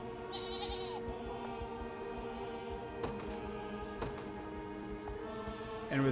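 Goat bleating in the fantasy video game Unicorn Overlord, a steady nasal bleat over a busy music and ambient game soundtrack, with a brief louder burst at the very end.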